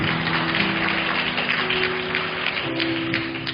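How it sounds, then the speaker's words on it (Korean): A church congregation gives a round of applause during a Sunday service marking the church's founding anniversary, a dense, steady wash of clapping over sustained organ or keyboard tones, with no voices. "하나님께 영광의 박수 한번 올려드렸으면 좋겠습니다"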